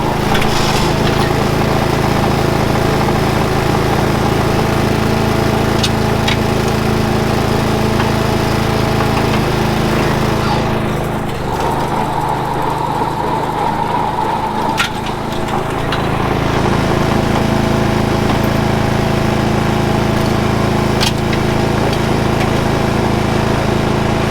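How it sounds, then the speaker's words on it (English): A Christmas tree baler runs on a Honda engine, its steady mechanical drone and chain-roller clatter filling the scene loudly and continuously, with a brief dip in texture midway before the engine noise resumes. "So that machine's powered by a Honda engine, and we just have a clamp that attaches to the stump of the tree"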